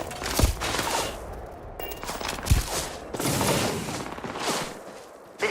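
A turret in the video game Starfield fires in dense, rapid bursts, a loud sustained clatter of shots with a few heavier booming impacts, and no speech over it.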